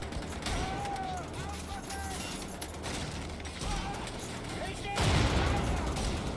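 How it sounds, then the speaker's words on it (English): Gunfire from shooting enemies in the Wolfenstein video game rings out as scattered shots over a busy, clattering game soundscape, with a heavier burst near the end. "let's shoot these guys"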